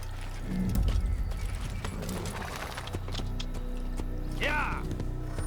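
Horse hooves clip-clop steadily in Assassin's Creed, joined by mechanical clicks and a short whinny near the end, while someone talks over the game.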